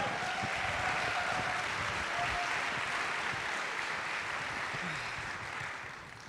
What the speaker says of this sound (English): Let's give everybody here tonight a big round of applause for all they've done.